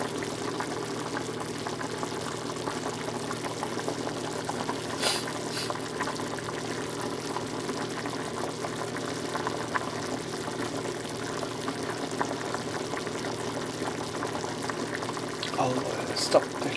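Pasta simmers in a pot of boiling water with oil added, a steady bubbling hiss that holds at moderate volume throughout with faint clinks.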